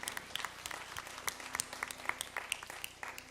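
Congregation applause during a Sunday church service, fairly quiet, with a brisk crackle of many hands clapping at a steady pace, somewhat distant and alone.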